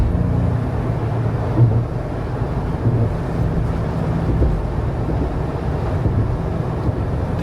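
Kumho Road Venture RT off-road tires on a vehicle at 50 mph give a steady broadband road roar mixed with wind noise, constant and fairly loud throughout.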